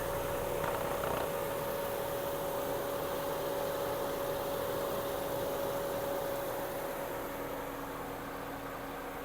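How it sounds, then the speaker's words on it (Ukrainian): A 2007 Volkswagen Golf Plus 1.6 MPI engine with gas conversion idles, humming evenly with a constant low tone and soft broadband noise, fading slightly near the end. "Мотор ще в ідеальнішому стані. Працює тихо, рівно."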